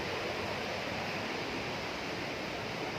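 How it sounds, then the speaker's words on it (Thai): Tat Mai Hia waterfall sends up a steady, broadband rushing roar of falling water, even and unbroken throughout and heard without any voices. "โอ้โหสวยงามบ่ อันคือน้ำตกตาดเนาะ"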